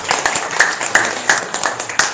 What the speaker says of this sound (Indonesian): tepuk tangan Bu Edi